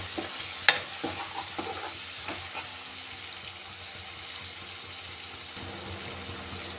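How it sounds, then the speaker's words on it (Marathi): A large tomato fries in a pan for a spicy village-style moth bean curry, a steady soft sizzle with a few clinks of stirring near the start. "लगेच टोमॅटो टाकून घ्यायचं। 1 टोमॅटो घेतलं होतं मी मोठं। हे पण चांगलं फ्राय करून घ्यायचं।"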